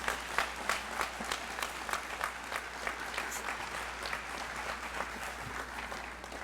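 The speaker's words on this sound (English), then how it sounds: "Now, we can all give them a round of applause." Crowd at a Hall of Fame induction ceremony applauds the inductees, continuous thick clapping from many hands, steady and moderately distant, with a low hum underneath.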